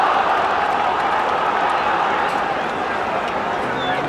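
Crowd of just under 27,500 at a 1984 football match roars and cheers for Newcastle, a dense continuous wall of noise from a large stadium with commentary running over it.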